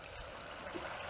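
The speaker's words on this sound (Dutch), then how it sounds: "Wat ik dan doe, is water geven in van die lege potjes." Water poured into empty pots set among plants in a dry seaside vegetable garden makes a soft, steady trickle that runs without pause and without voices.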